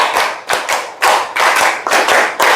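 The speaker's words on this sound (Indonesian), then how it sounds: "Tepuk 4, tepuk 5, tepuk 5" A group claps out a counted rhythm in a clapping game, loud close bursts of several quick claps each separated by short pauses, with no talking.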